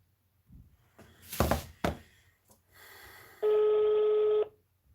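A telephone is being dialed: a few soft thumps and handling knocks come first, then a single steady electronic tone sounds for about a second before cutting off.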